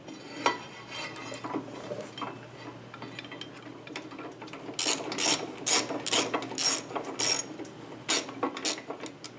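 A wrench ratcheting on the brake caliper bolts of a 1994 Harley-Davidson, bursts of rapid metallic clicking in short repeated strokes, close and clear with some earlier clinks of tools.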